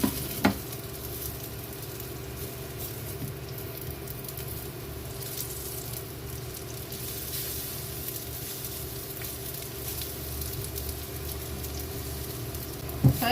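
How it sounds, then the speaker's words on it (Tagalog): Bananas frying in hot oil in a pan: a steady, even sizzle that runs continuously and close, with faint clicks at the start and end and no talking. "Mainit na yung mantika, prituin muna natin itong mga saging."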